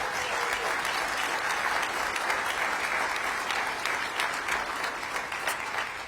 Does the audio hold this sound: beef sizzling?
no